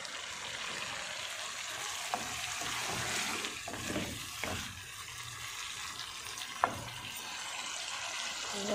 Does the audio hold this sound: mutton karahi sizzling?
yes